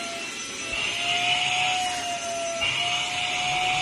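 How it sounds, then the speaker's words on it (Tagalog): A budget dust mite vacuum cleaner runs with a steady whining motor hum and airy hiss of suction, loud and close, the pitch dipping briefly once before resuming, with no talk. "Marami na ako nakitang Dust Mite Vacuum na brand, pero ito yung pinakamura sa market."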